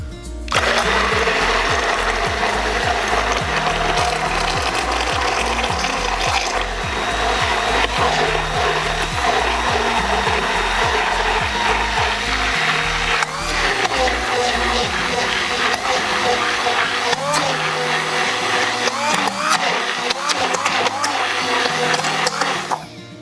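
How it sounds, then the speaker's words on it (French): An immersion blender whirs steadily while mixing homemade spicy mayonnaise in a container, the loud motor drone broken by rhythmic knocks and scraping against the vessel throughout, with a voice speaking now and then over it. "On va prendre le pied mélangeur. On va commencer à mélanger tout ça."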